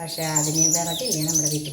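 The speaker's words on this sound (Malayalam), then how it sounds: "കിളികൾ ഇതേ ശബ്ദം ഉണ്ടാക്കിക്കൊണ്ടിരിക്കുന്നത്" Birds chirp and tweet near a kitchen in quick bright calls while someone talks over them.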